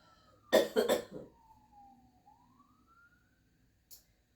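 A close burst of three harsh coughs in quick succession, followed by a faint distant siren rising slowly in the background.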